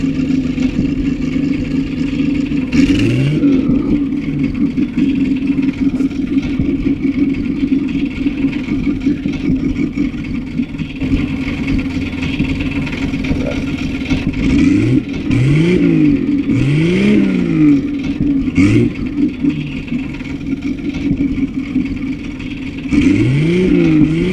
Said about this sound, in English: Straight six sound.